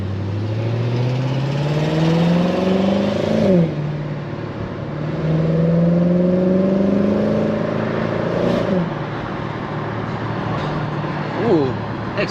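A Ford Mustang drives past at night, its engine rising and falling in pitch as it passes, heard from inside another moving car over a steady road hum.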